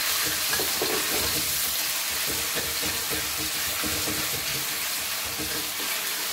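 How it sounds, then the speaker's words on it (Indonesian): Continuous loud sizzling of ginger frying in hot oil, with occasional stirring clatter, steady throughout and close up. "terus ini ya pakein jahe yang banyak ya, goreng lagi jahenya"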